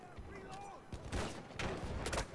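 Shotgun blasts in the video game Battlefield 1 crack out in a few quick, fairly quiet bursts over a busy background of distant battle noise, with a voice faintly present.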